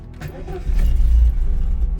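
A cold VAZ car engine cranks and catches after the ignition key is turned, a strong low rumble swelling up near and loud, with faint key jingle early on and no talk over it.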